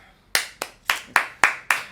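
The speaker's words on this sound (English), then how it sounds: "I do not deserve a clap." Six sharp claps in a steady, evenly spaced rhythm, close and distinct against near silence, from an audience at an interview.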